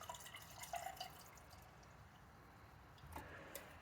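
Cherry Coke mixer poured into apple pie moonshine gives a faint, close liquid trickle and soft drips in a quiet room.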